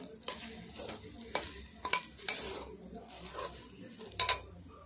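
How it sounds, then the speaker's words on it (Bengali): A spoon stirs fried grated coconut into a bread mixture in a pan, making quiet, intermittent scrapes and metallic clinks over a faint background sizzle. "দিয়ে ভালোভাবে আমি পাউরুটির সঙ্গে মিশিয়ে নেব"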